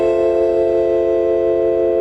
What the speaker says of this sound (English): right there, that's the sound of the System 1